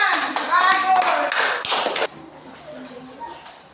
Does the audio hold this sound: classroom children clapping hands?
yes